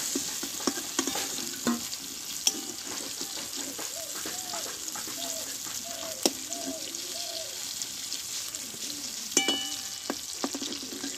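Soft eggplant fritters fry in hot oil, giving a continuous close sizzle with clinks and scrapes as they are turned and lifted, and a faint voice briefly underneath.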